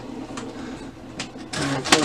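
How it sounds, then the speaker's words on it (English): Paper tray drawer of an HP Officejet Pro 6230 printer sliding shut, a few soft scraping clicks and then a louder closing clunk with a brief rattle at the end, close by. "Go ahead and slide it into the paper tray. And close the drawer."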